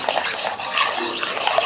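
Egg yolks being whisked for homemade eggnog: a brisk, continuous scraping and clinking of a whisk against a bowl, close and steady, with no talking.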